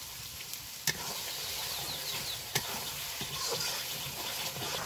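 Turmeric, chili and coriander paste frying in cooked-down masala for chicken biryani, a faint continuous sizzle close by with a couple of sharp ticks from a utensil, no voices.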